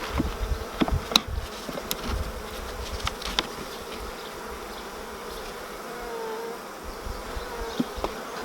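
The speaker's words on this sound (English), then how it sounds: "So there's bees up in here." Bees buzz steadily up close in a beehive honey super, a dense droning hum with occasional louder passes as individual insects fly near.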